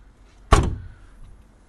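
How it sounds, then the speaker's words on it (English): Exterior storage compartment door on a 2017 Tiffin Phaeton 40QBH motorhome shuts with a single firm, close thunk, followed by a short fading rattle and then quiet. "All the compartment doors shut with ease, so nice."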